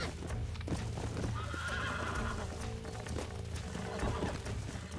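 A horse in Red Dead Redemption on PS5 whinnies and snorts repeatedly, with hooves clip-clopping close by throughout, loud and continuous.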